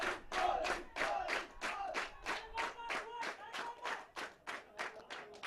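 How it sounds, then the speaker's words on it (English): Rugby fans of Police Sports Club cheer and chant in a stadium during a league match against Air Force, a loud crowd roaring in rhythmic bursts, roughly two per second, throughout. "all of a sudden the cheer comes from the police fans"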